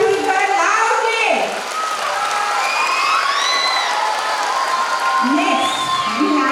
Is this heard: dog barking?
no